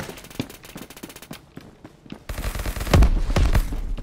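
A grenade explosion in the Roblox Phantom Forces video game, a heavy booming burst erupting loudly partway through amid scattered crackling gunshots before and after, no talk.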